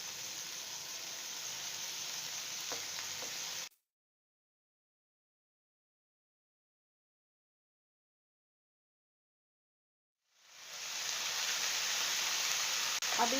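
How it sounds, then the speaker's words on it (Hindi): A kilo of moongre pods fries with spices in ghee, a close, even sizzling hiss that cuts off abruptly to silence for several seconds before swelling back to a steady sizzle. "अब इसे 1 से 2 मिनट तक फ्राई करेंगे मसालों के साथ।"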